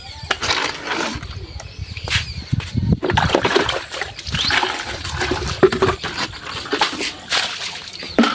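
Water runs and splashes as a container is filled, a continuous rushing wash with uneven surges, with faint voices in the background.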